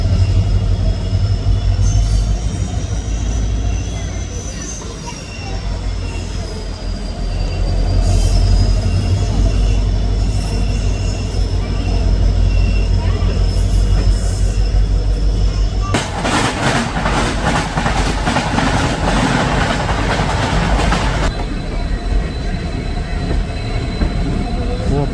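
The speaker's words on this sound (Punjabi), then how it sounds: "ਸੋ ਆਪਣੀ ਟ੍ਰੇਨ ਰਾਜਪੁਰਾ ਦੇ ਪਲੇਟਫਾਰਮ ਨੰਬਰ 1 ਤੇ ਚੱਲ ਪਈ ਹੈ ਜੀ" A train pulls out of platform 1 at Rajpura, running steadily along the rails with deep rumbling, rhythmic clatter and a long squealing wheel tone, growing harsher and louder partway through.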